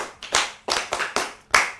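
Children clap for the rooster in a told story, five or six loud, separate, uneven bursts of hand claps close by with no talking.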